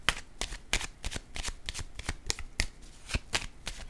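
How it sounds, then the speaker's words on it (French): Playing cards are handled on a table, giving a rapid string of crisp, close paper snaps and flicks in an uneven rhythm, quiet overall, with no talking. "Je vais déposer une carte ici."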